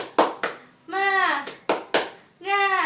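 Schoolchildren in an elementary class do a rhythmic clapping chant: a few sharp hand claps alternate with short bursts of voices chanting in unison, close and lively.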